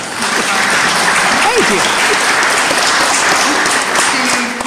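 Loud, dense applause fills the room at a DAHP Preservation Hero award ceremony and continues without a break while a voice briefly speaks over it.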